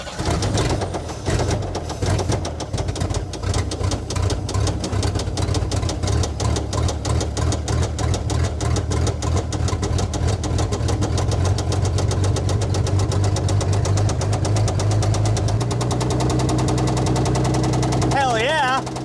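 A truck engine runs at a rough, uneven idle throughout, close and steady with a lumpy knocking pulse, and a faint bird chirp near the end.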